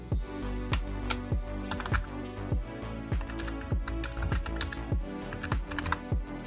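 Steady typing on a computer keyboard while entering watermark text in Microsoft Word, a fast run of close, crisp key clicks with a regular rhythm and no voice over it.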